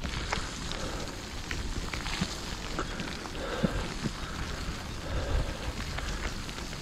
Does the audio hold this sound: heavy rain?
yes